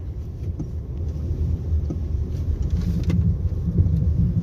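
Road traffic at night in Batang rumbles as a steady low engine drone with passing-vehicle swells, continuous and fairly loud, with no talk over it.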